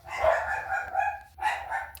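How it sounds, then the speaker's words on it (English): Dogs bark indoors, nearby and fairly loud: a few quick, slightly whiny barks followed by a second short burst after a brief gap. "I apologize for the dogs"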